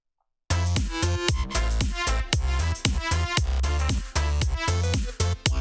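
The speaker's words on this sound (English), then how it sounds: "I can tell it's a fake trumpet." A synthesized fake trumpet plays in a loud, punchy music track, its bright brassy notes riding over thumping rhythmic beats that continue steadily after a moment of silence at the start.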